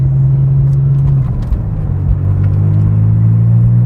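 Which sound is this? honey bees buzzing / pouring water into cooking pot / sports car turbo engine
sports car turbo engine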